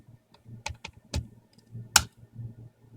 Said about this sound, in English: So we type the login ID as Pi and the password, which doesn't show up, but you still need to type.